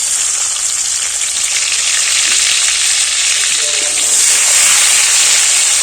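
Chopped tomatoes hit hot oil seasoned with black cumin seeds, sugar and bay leaf, raising a loud, steady sizzle that stays constant and swells slightly near the end.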